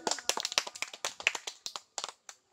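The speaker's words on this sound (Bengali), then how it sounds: "বন্ধুরা খেলা কিন্তু জমে গেছে, সবাই হাততালি দিবে" A small group claps in quick, uneven bursts during an in-and-out party game. The sharp hand claps are close and fairly distinct, and the clip ends with a few scattered final claps.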